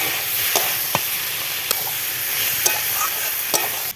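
Cumin, coriander and chili powder sizzle in a frying pan with mixed vegetables, a steady hiss broken by several sharp clinks and scrapes of a spoon stirring, close and alone.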